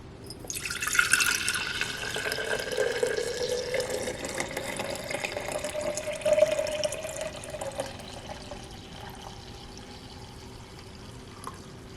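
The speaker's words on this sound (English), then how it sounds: "And now I'm going to pour it into my fermenting jar." A steady stream of milk pours into a fermenting jar for homemade yogurt for several seconds, the tone rising slightly as it fills, then tapering to faint drips.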